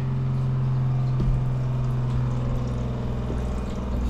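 Water running through the pipes of an off-grid cabin with the pump powered on, a steady continuous rushing flow carrying a low hum, loud and even throughout with no talking.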